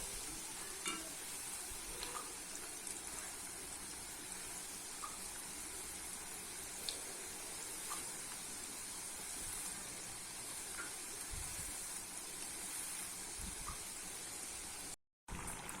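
Onion murukku deep-frying in hot oil at medium heat, a long, even, close sizzle and crackle with scattered tiny pops and occasional faint clicks, steady throughout before a brief cutoff near the end.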